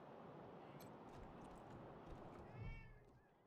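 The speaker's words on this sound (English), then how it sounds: "He says meow." A cat meows in the video game Wasteland 3, a short plaintive call near the end over a steady bed of game ambience and low rumble.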